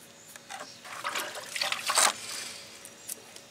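Water poured from a container over brick steps during a repair to rinse the brick clean, a few splashing, trickling bursts of moderate loudness close by, peaking briefly before tapering off, with no talking.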